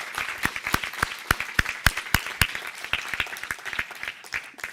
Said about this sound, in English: So a big round of applause for our mentors